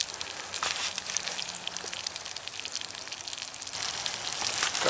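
Garlic sizzling in a small frying pan, a dense, steady crackle and spatter that grows slightly louder, with no talking over it.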